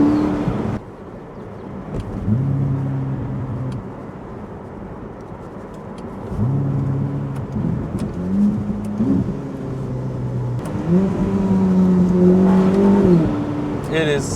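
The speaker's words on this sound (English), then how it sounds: "See, you can also drive over stuff like this with the SF90." A Ferrari SF90 Spider on the road, its engine rising and falling in repeated revving surges under a driver's speech, loud and close from the cabin, with bumps and road noise between pulls.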